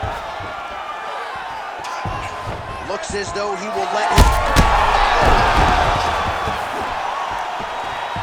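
Crowd in the UFC 5 video game reacting to strikes, with sharp impact thuds and a swelling roar of cheers midway, rising under a commentator's voice.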